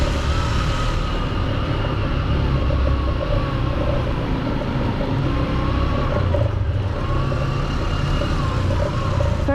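Motorbike engine rumbling steadily while riding slowly in first gear through a cave in northern Vietnam, a loud continuous low drone that echoes in the enclosed space.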